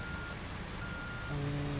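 A truck backing up to load soil, its reversing alarm beeping steadily and close over a continuous engine rumble.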